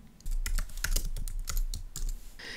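Fingers tap on a computer keyboard in a quick, uneven run of crisp clicks for a couple of seconds, close up in a quiet room with no speech.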